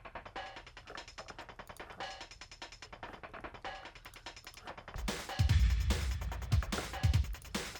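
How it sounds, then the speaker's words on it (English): Four hi-hat samples stacked together in a chorus drum pattern, a fast, steady run of bright ticks that continues as heavier drums and bass come in loudly partway through, with no voices. "But basically all these 4 hi-hats together sound like this."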